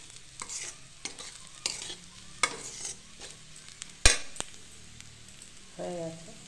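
A metal spatula stirs and breaks up boiled mashed potato frying in a pan, giving repeated scraping and clanking strokes over a soft sizzle.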